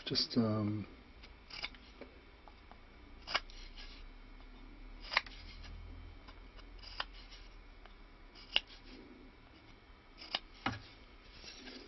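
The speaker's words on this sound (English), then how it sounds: "we're just going to clear out the fret slots with a knife" A knife scrapes gunk out of the fret slots on a stick dulcimer fingerboard, giving a faint series of short, sharp scratches with quiet pauses between them.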